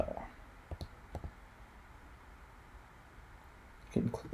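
A few sharp computer mouse clicks in drawing software land close together near the start, then another click near the end, quiet and close, with faint speech nearby.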